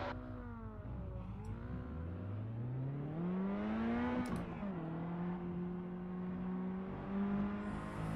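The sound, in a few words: race cars on rolling start in iRacing video game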